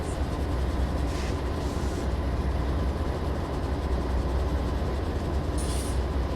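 A GE Dash 9 diesel locomotive accelerating, a dense continuous rumble of the train rolling along with steady low engine drone and rail noise, loud and close throughout with no talking.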